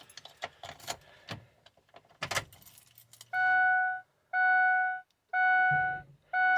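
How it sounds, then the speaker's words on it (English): A bunch of Ford car keys jangles in short, bright, close-up rattles, then a steady electronic chime beeps four times in an even rhythm. "There's the keys."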